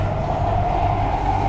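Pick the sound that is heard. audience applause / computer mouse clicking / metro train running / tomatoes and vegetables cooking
metro train running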